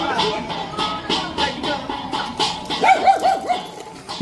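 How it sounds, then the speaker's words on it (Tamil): A dog barks repeatedly in a home during a Mattu Pongal celebration, with short yelps and whines near the end and people talking in the background. "நாய் குலைக்குது"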